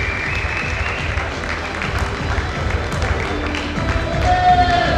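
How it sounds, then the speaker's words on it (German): Applause and crowd noise from the audience at a heavyweight men's bodybuilding national championship, a steady dense wash of clapping that swells slightly toward the end, with a faint tone rising near the close. "Großer Applaus für euch, die waren echt gut, super."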